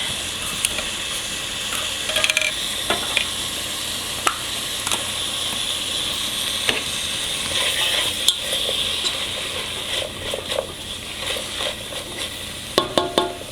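Cabbage stew base sautéing in a pot, a constant close sizzle with frequent scraping and clicks of a spoon stirring against the pot.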